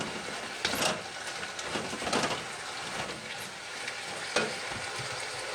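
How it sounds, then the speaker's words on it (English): Mushrooms sizzle and fry in a stir-fry pan while being stirred and tossed, a continuous close crackle with scraping strokes and a few louder clatters, no talking. "Get my mushrooms going. All in there, get it good and mixed."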